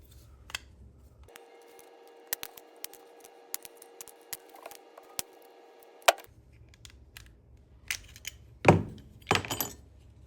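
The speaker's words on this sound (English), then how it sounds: "we're going to pop this cover off." Small clicks, snaps and metallic ticks as the cover is pried off a microwave turntable motor, with a faint steady hum in the middle and a couple of louder scraping snaps near the end.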